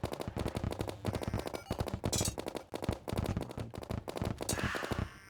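Rapid gunfire in a 2D Minecraft-style sandbox game, fired in quick bursts of repeated sharp shots with short pauses, loud and close throughout.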